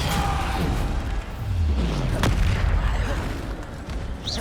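Bombarda spell blasts in Hogwarts Legacy boom repeatedly amid combat noise, heavy low rumbles and crashes layered over a steady roar of battle effects.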